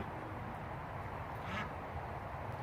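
Faint quacking comes from a backyard duck pen holding two egg-laying ducks, heard softly beneath a steady background hiss.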